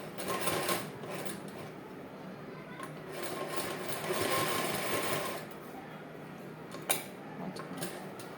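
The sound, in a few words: sewing machine stitching a chudidar back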